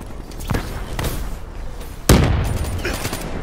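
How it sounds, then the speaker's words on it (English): Video game gunfire: bursts of shots and impacts with one heavy blast near the middle, loud and dense against continuous game noise and background chatter. "Oh no, I'm getting shot at."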